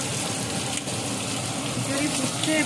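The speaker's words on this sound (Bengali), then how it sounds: "খিচুড়ি ফুটছে" Khichuri boils in a pot on the stove, a loud, close, continuous rush of bubbling and rolling water that stays steady from start to finish.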